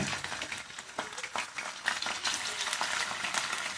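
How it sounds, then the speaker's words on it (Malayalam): Chicken frying in hot oil for fried rice, a fairly quiet, bright crackling sizzle with irregular pops and a few scraping stir sounds, no talk. "ചൂടാട്ടയിലേക്ക് ചിക്കൻ ഇട്ട് കൊടുക്കാൻ നോക്കാം"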